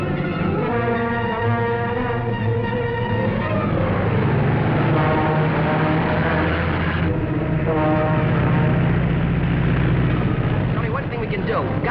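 A propeller airplane engine from a 1942 aviation adventure serial drones loudly and steadily for about twelve seconds, a continuous rumbling hum with no break.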